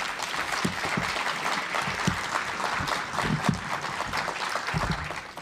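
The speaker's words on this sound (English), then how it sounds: "let's give another round of applause" Conference audience in Toronto claps steadily throughout, a dense, even wash of many hands with a few closer, louder claps standing out, no voices on top.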